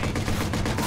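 Gunfire in the Watch Dogs video game forms a dense, continuous stretch of shots, loud and close, with no pause between them.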